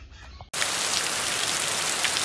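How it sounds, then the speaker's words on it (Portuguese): Rain starts pouring suddenly after a brief quiet moment, then continues as a loud, dense, steady hiss of drops hitting surfaces nearby. "Aqui tá chovendo de novo."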